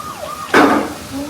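A child's toy fire truck siren gives a short, loud wailing burst in a room during a family gift unboxing, with voices murmuring just before and after.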